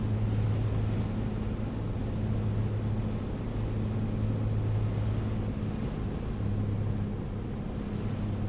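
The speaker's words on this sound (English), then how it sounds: "You can hear the wind buffeting the plane." Wind buffets an A2A Comanche 250 in Microsoft Flight Simulator: a steady roar of rushing air over a low droning engine hum that holds throughout, fairly quiet and without speech.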